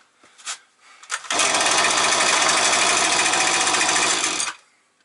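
Husqvarna 128R string trimmer engine with an idle fault, a couple of short sputters, then a loud steady buzzing run for about three seconds before it cuts off, close by with no talk.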